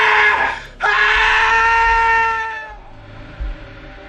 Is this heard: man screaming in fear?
yes